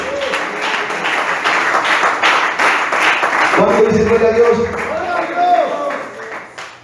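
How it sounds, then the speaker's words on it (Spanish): A church congregation claps and cheers in worship, a dense sustained wave of applause with voices shouting over it, fading out at the end. "Den un fuerte aplauso a Dios y a su nombre."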